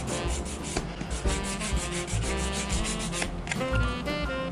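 Steady, close rubbing of sandpaper over a gesso coat, a continuous rough scratchy stroking with rhythmic back-and-forth pulses that grow slightly smoother toward the end.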